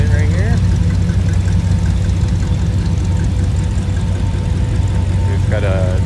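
Several cars rumble in at an outdoor car show featuring hot rods, an El Camino and a Bronco, with a loud low engine drone throughout, a brief squeak near the start and end, and voices in the background.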